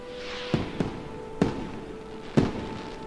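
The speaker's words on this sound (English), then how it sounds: "Whoa, check this out, firework." Four sharp firework bangs burst at uneven intervals over a steady electronic hum, each crack followed by a short fading crackle, in the VR game Kayak VR: Mirage.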